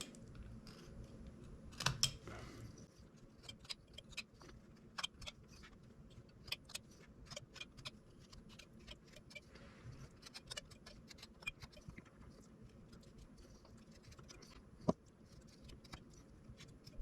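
Quiet knife whittling on wood while carving a small hillbilly figure's legs, heard as a scatter of short, sharp scraping cuts and clicks at close range, fairly faint, with one louder cluster near the start and no talk.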